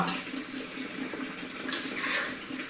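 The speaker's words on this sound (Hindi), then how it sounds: "इधर मैंने बाल्टी भरने के लिए लगाई है मनी प्लांट में पानी डालने के लिए" Tap water pours steadily into a bucket at home, filling it to water a money plant. The rushing splash is continuous and moderately loud, with no voices.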